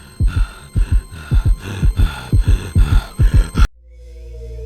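A loud pounding heartbeat thumps in a steady doubled rhythm, about eight beats close and heavy, then cuts off abruptly into a low hum.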